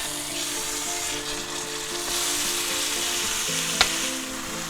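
Seasoned chuck roast searing like a steak in a hot pan gives a steady, close sizzle and crackle with a low hum beneath, briefly swelling midway, and a single sharp clink near the end; nobody speaks.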